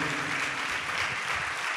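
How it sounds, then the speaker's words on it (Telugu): A church congregation at a Sunday service claps loudly together, a dense, steady burst of applause filling the room without speech. "చప్పట్లు కొట్టండి గట్టిగా."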